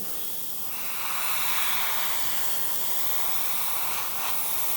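An airbrush or spray can lays a coat of paint onto a Tamiya 1/48 F-14A model kit: a close, steady hiss that swells after the first second and holds, with no talking.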